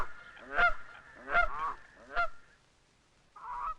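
Canada geese honk in three loud spaced calls with harsh descending tails, then a shorter nasal call after a pause, heard alone outdoors.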